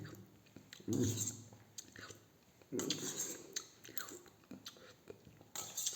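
Someone eating homemade payesh, a sweet rice pudding, with a spoon, giving close, soft chewing and wet mouth sounds in short bursts with light utensil taps and brief pauses between mouthfuls.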